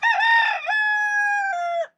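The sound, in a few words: rooster crowing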